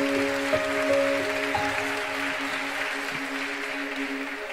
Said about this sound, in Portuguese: Aplauda Jesus Cristo.